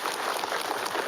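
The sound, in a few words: crowd applauding at political rally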